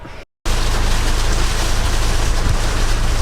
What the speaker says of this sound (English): So now it's bloody hailing, and I'm trying to work just there.